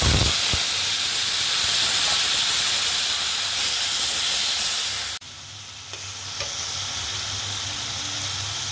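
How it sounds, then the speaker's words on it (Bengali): Boiled star fruit drop into hot mustard oil in a wok, which sizzles and hisses loudly and steadily, with a brief clatter at the start and a sharp dip partway through before the frying resumes. "কামরাঙাগুলো দিয়ে দিচ্ছি কড়াইয়ের মধ্যে।"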